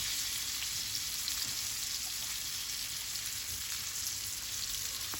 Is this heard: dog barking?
no